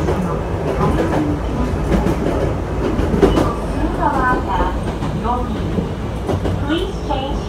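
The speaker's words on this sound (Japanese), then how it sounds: "This is a local train bound for Kagemori." Chichibu Railway local train running along its tracks, with a continuous rumble and rhythmic wheel clatter heard from the cab, loud and steady, with faint onboard chimes or announcements over it.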